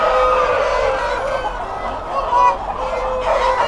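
A large crowd of chickens clucks and murmurs continuously inside a breeder farm, a loud dense chorus with no clear voices.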